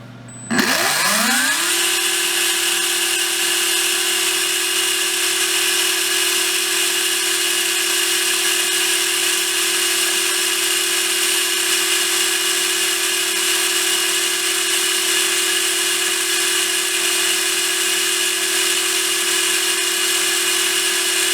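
A Hobbywing 17.5T V10G4-R brushless RC motor spools up in about a second, then holds a steady, loud, high-pitched whine at 20,500 RPM for about twenty seconds with no talking.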